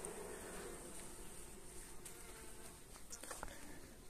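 Honey bees buzz in a dense, continuous swarm drone over frames lifted from a hive, faint and steady with a few louder passes near the recorder.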